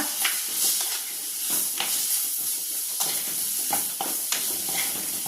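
Mango pieces stirred into a sizzling egg curry in a pan, with steady frying hiss and repeated scraping strokes of a spoon, close and fairly loud, no talking.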